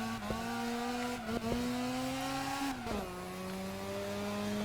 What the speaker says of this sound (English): I slide the car too much.